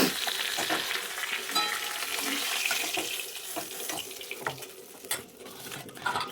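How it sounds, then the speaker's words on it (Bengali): Fish and then potatoes frying in hot oil in a home kitchen, a steady sizzle with irregular crackles and stirring clatter, no voices. "এবার এই আলুগুলোকে ভেজে নেব,"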